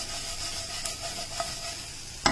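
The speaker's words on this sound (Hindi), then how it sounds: "देखिए उतना ही तेल लीजिएगा जितने में ये शैलो फ्राई हो जाए" Masala-coated potatoes shallow frying in a little oil in a pan, stirred now and then, giving a steady close sizzle with a few soft scraping taps and a sharper clack near the end.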